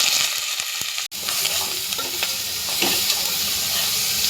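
Ginger, garlic and chili paste sautés in hot oil with mustard seeds and cumin for vada pav potato filling, a steady loud sizzle and frying crackle with occasional stirring scrapes and one sharp knock near the start.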